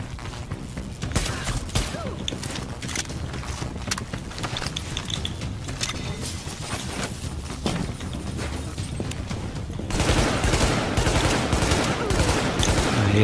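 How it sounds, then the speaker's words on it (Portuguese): Rifle fire from a sniper in the video game The Division, a string of sharp reports mixed with clatter and a busy mechanical background that grows louder near the end. "O barulhinho da sniper."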